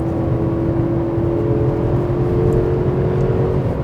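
A Genesis G90 sedan's V8 engine, rated around 425 horsepower, heard from inside as a steady, loud low hum and whir at speed, with a faint tonal drone and no change in pitch.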